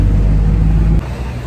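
A car driving through city streets in Kyiv gives a steady, loud low engine and road rumble heard from inside, which drops slightly in level about a second in, with no talking.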